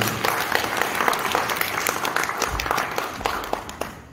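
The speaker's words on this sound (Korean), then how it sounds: "큰 박수." Audience applause in a multipurpose hall during an international friendship association event, brisk clapping from many hands that swells and then thins toward the end.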